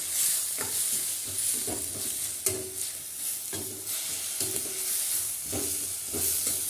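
Ground paste of asafoetida, pepper, cumin, tomato and green chilli sizzling in a frying pan for goat lung gravy, with rhythmic scraping stir strokes about once a second, close and steady without talk.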